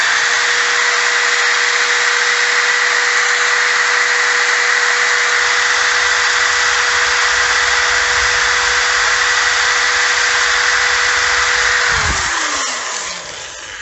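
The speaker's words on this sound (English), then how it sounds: "I have this steel wire brush." A steady high whirring drone runs throughout as a rust-scrubbing steel wire brush works on a Cadillac CTS brake hub, then the motor slows and winds down near the end.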